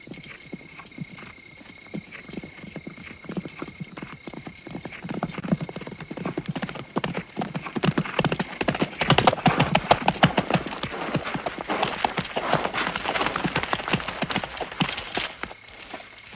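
Hundreds of horses of an arriving army of about 3,000 men clatter with dense, continuous hoofbeats on hard ground. The clip-clop builds from scattered clopping to a loud, thick drumming that keeps going to the end, with no talking.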